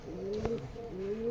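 A pair of Teddy pigeons coos close by, giving a short, soft throaty call with two rising-and-falling tones, quiet and alone.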